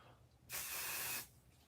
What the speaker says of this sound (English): if you use the pixie spray on the back of here, it will perfectly mat this down for you